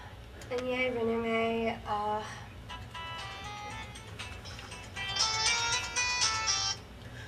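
A cell phone ringtone plays a bright melodic tune in repeating phrases, loud and close over a low background rumble, with a short break before the melody resumes.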